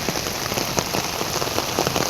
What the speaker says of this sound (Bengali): এত বৃষ্টি, ড্রেনেজ ব্যবস্থা এত সুন্দর, তারপরও এত পরিমাণে বৃষ্টি যে পানি নিষ্কাশন হওয়ার সময়টুকু পাচ্ছে না